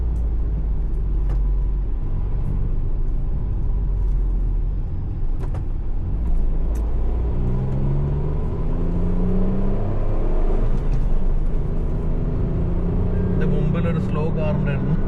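A Tata Altroz Racer 2024 runs a hot lap on a race track, giving a loud, continuous engine roar over road rumble. The revs climb and fall in rising sweeps through the second half.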